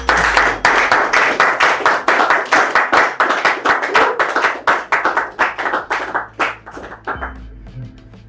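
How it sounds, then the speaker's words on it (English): An audience applauds a speaker to the lectern at a Toastmasters-style event, steady close clapping from a modest crowd that keeps an even rhythm for several seconds before tapering off. "With the resounding applause, please let's welcome Toastmaster Seth Kyauta to the lectern."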